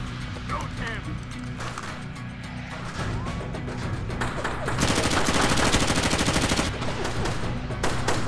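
Rebels attacking with automatic gunfire in the video game Far Cry Instincts: Evolution, rapid bursts of machine-gun fire building from scattered shots to a loud sustained rattle, with voices shouting over the fighting.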